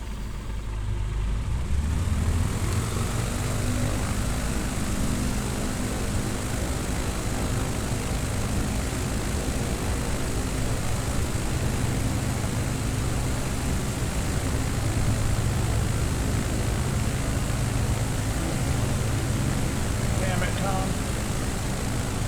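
A small bush plane's engine in Microsoft Flight Simulator 2020 runs at full throttle on a Nevada leg, a loud, steady drone that holds for the whole stretch while voices talk over it.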